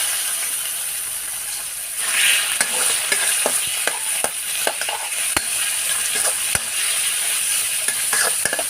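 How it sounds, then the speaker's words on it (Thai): Pork being stir-fried with garlic in a pan: a loud, hissing sizzle with repeated sharp clacks of a spatula against the pan, sounding close and without any talk. "ผัดให้มันสุกดีเลยนะคะ"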